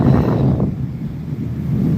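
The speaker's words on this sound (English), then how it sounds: "It is extremely windy." Strong wind blows underneath a bridge beside a flowing river, a steady, close, buffeting roar with a lull partway through and no one speaking.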